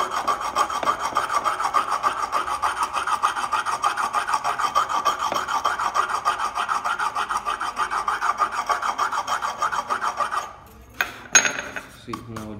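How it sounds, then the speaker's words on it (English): Steady, rhythmic rasping strokes of an emery stone sanding a handcrafted wooden box, repeated back and forth for several seconds, close up, then a few clattering knocks. "To make it smooth, I will sand down like this here."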